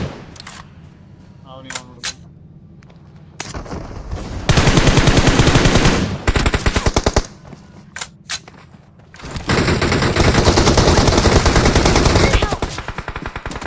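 Rapid automatic UMP submachine gun fire in the BGMI mobile battle royale game, heard as several long, loud sustained bursts separated by brief pauses and lighter clicks.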